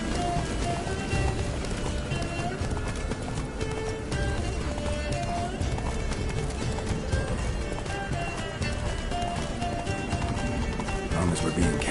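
Roach the horse gallops in The Witcher 3 video game, a steady clip-clop of hooves running under continuous game music and ambience, with voices talking over it throughout.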